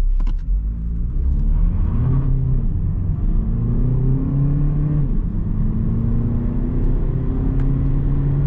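A Volkswagen Passat Variant with a 1.6 TDI diesel and DSG gearbox pulls away in sport mode, its engine note climbing through several gear changes with a steady, fairly loud cabin drone and no talk.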